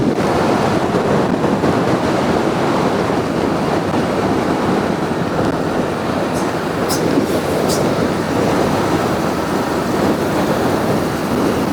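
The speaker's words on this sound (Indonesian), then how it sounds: "Jadi angin di sini tuh kencang banget." Steady, loud roar of strong wind buffeting the microphone on a quiet road lined with coconut palms, with a constant broadband rush and no pauses.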